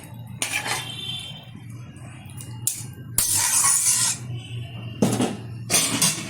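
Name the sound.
stirring fried bata fish curry in a pan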